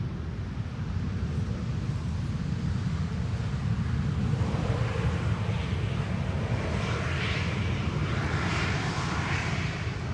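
An EasyJet airliner arriving at Schiphol on runway 18R roars in a sustained, broad engine rumble with wind noise, loud and steady throughout as it passes.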